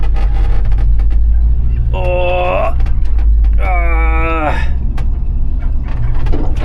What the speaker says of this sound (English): This bus does not like bumpy roads